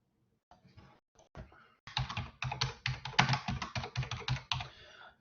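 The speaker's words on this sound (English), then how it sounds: "so I can do a little typing" Close-up typing on a computer keyboard: a few scattered keystrokes, then a quick run of crisp clicks in an irregular rhythm.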